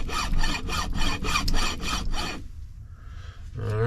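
A big hand file rasps across the metal of a commercial light fixture being scrapped, about eight quick, evenly spaced strokes in a loud rhythmic burst, then a faint scrape before stopping.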